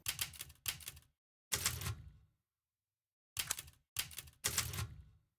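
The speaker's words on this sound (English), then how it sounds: "you're supposed to be saving your game and interacting with it through a typewriter, a lot of its menu selection sounds are very mechanical" Clacky mechanical typewriter keystroke menu sounds from the Resident Evil video game save screen, six crisp bursts in two groups of three with a silent gap between, each a sharp metallic strike with a short decaying rattle.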